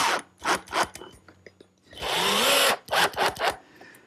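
A power drill drives exterior screws into wooden garden-gate lattice pieces, with several short whirring bursts followed by a longer sustained run, loud and close in a workshop.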